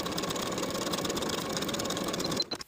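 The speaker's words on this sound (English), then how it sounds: "Sew the pocket to the skirt with a 3/8 inch seam allowance." A sewing machine stitching a pocket onto a skirt, a fast continuous mechanical whir running steadily at close range before stopping abruptly near the end.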